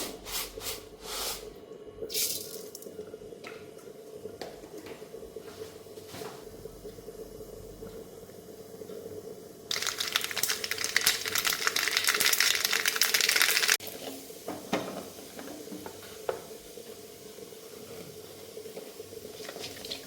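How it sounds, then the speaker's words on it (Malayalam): Quiet kitchen rustling, then a loud burst of crackling, spluttering sizzle as mustard seeds hit hot coconut oil, lasting a few seconds before dying back down to soft background noise. "എണ്ണ ചൂടായിട്ടുണ്ട് ഇച്ചിരി കടുക് ഇട്ട് കൊടുക്കാം"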